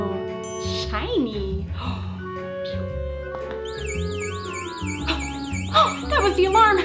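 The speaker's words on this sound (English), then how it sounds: "That was the alarm." An electronic alarm sounds during a children's spy-kit game: a rising and falling warble joins partway through over ongoing music and talking voices, fairly loud and continuous.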